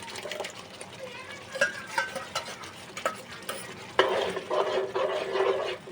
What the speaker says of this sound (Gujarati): હવે આપણે એને ઘડીક હલાવી નાખીશું